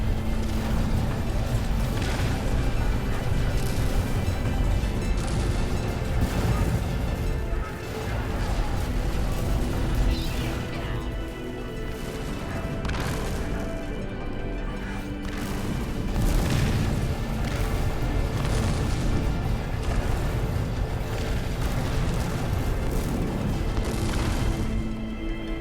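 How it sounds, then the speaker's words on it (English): Sentinel cannons in the video game No Man's Sky pound the player's ship with repeated booming blasts and explosions, loud and close, coming in irregular bursts over a constant rumbling combat background. "I get a beating here from the Sentinel cannons as I make my way down this side of the ship"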